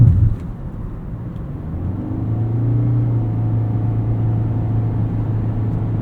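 A 2023 Toyota Corolla Hybrid XLE with a 1.8-liter engine accelerates, heard from inside the cabin as a steady low engine drone that rises and holds, with road rumble underneath and no talking.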